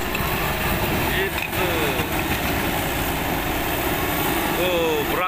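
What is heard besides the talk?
bulldozer engine revving at landfill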